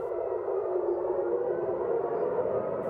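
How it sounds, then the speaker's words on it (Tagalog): A civil defense siren sounding in Israel during missile attacks, heard as a steady, sustained wail holding one even pitch throughout, loud and continuous with no voices. "Halos magdamagan tuloy ang sirena roon, kasabay ng nagliliparang missiles sa langit."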